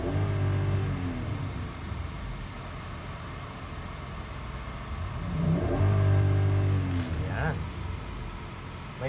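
Nissan Patrol 400 Platinum engine after a crankshaft position sensor repair, revving twice in strong near bursts that rise and fall over a low idle rumble, with voices talking in the background.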